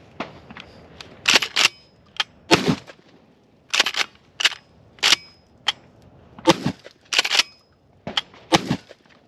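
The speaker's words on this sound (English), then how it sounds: "Let's squeeze a couple more rounds. I think I've got some birdshot and some slug in here." A Kel-Tec KSG25 pump shotgun fires birdshot and slug outdoors, with sharp loud reports spread irregularly across the span and the clack of the pump action between them, with no voices.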